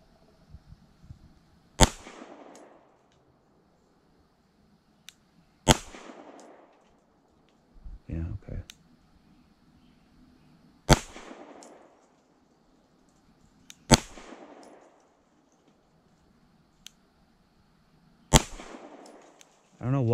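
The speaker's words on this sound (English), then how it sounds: "But the gun is running, so let's see." Springfield Armory Prodigy pistol firing single gunshots at an outdoor range, five sharp loud cracks spaced a few seconds apart, each with a short echoing tail and brief handling noise between shots.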